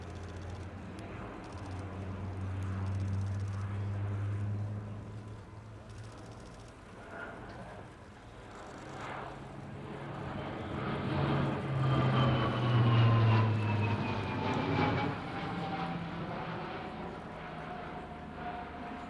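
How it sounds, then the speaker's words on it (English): An Alenia C-27J Spartan twin-turboprop transport of the Italian Air Force flies an aerobatic loop at an air show, its propeller drone swelling and shifting in pitch as it climbs and passes, heard from a distance. "Now more aerobatics from the C-27J coming up into a loop."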